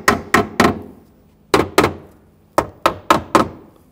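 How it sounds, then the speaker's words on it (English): A small hammer taps parts into place while fitting rear shock absorbers on a 2007-2013 BMW 328i, giving about ten sharp, close knocks in short clusters separated by brief pauses. "use a hammer, just a small hammer, and tap them in"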